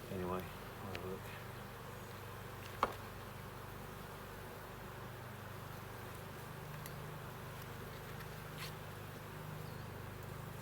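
Honey bees buzz in a soft, steady drone during an open hive inspection, quiet and constant throughout, with a single sharp tick early on and faint sounds of handling.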